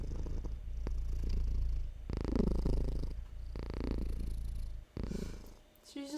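An elderly female house cat purring up close, a steady low rumble that swells and fades in rhythmic breathing cycles across the whole stretch, with a brief break near the end.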